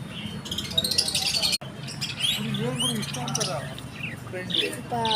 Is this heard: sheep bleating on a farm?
no